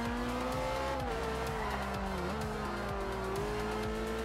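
A race car in Forza Horizon 2 braking hard, its tires squealing in a long wavering tone over a steady engine drone, loud and close with no talking.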